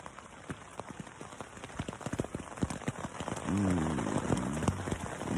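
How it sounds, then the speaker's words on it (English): Heavy rain drums on a tent from inside, sharp drops tapping irregularly and thickening into a dense patter, with a brief voice murmuring partway through. "And look how it's just really raining."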